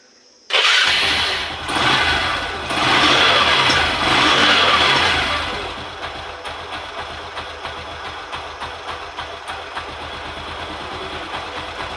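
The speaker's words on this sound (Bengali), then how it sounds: "আমি আবারও স্টার্ট করে গাড়িটা সাউন্ড শোনাবো আপনাদেরকে" A Bajaj Platina ES motorcycle with a newly fitted half engine starts abruptly and runs loud at high revs for several seconds, then settles into a steady, lower idle close by.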